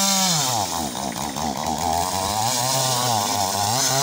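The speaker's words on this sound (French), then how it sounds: "notre petite tronçonneuse qu'on allait chercher" A small chainsaw running close by, its engine revving up and down in a loud, continuous whine.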